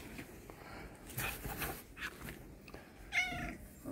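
A cat meows a few times at moderate volume amid the rustling and handling noise of a thrift store, with no talk over it.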